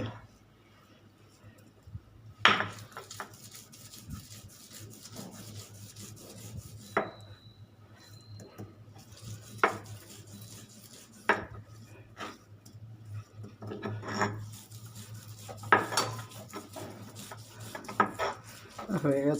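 Cashew nuts being ground into paste on a flat shil grinding stone, with repeated rough rubbing and scraping strokes and occasional knocks close by, and a voice speaking at times between strokes.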